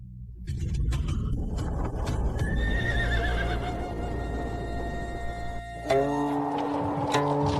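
A horse trails behind a travelling convoy. Its hooves clip-clop steadily and close by, and it gives loud, drawn-out whinnies, one rising clearly toward the end, with no speech.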